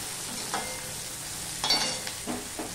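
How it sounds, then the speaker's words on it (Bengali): Chopped onion fries in oil, a low steady sizzle with several soft spoon stirs and scrapes at irregular intervals, fairly quiet and close, with no one speaking. "দেখো পেঁয়াজটা লাল লাল হয়ে ভাজা হয়ে গেছে"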